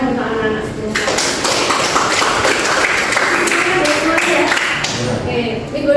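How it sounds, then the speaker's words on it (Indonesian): Classroom applause for the children, with a burst of scattered hand claps that carries on for several seconds and mixes with voices in the room. "Oke, tepuk tangan untuk anak-anak."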